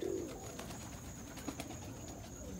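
An Indian fantail pigeon, a kite-coloured cock bird with a crest, coos in low soft rolling phrases close by, with a steady faint background hum and no talking.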